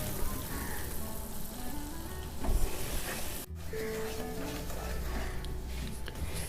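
Gram flour and coconut roast in a pan for halwa, giving a soft, steady sizzle and scrape that runs continuously at close range, with one brief dip partway through.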